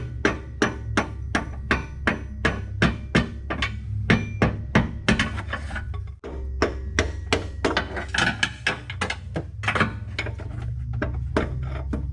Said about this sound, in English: What I'm doing right now is just hitting it from the back with a little pry bar.